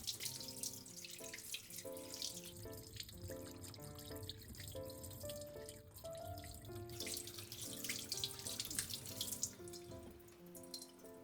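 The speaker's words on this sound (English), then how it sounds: "Then I wash the blood and the remaining innards carefully." Running tap water splashes steadily into a kitchen sink while sardines are rinsed of blood and innards, a close, continuous wash over faint background music.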